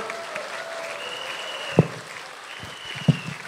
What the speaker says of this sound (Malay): saya minta kita berikan penghargaan di atas keberadaan Yang Amat Berhormat Perdana Menteri kita dengan tepukan yang paling bergemuruh oleh kita semua.